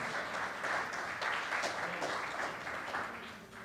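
Audience applause at an awards event after a student's speech, a continuous rolling patter of many hands, fairly even in loudness and fading slightly at the end, with no talking on top.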